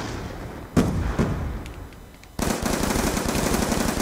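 Gunfire in the video game Black Ops 2, loud close bursts of rapid automatic fire, a brief lull, then a sustained rattling stream of shots to the end.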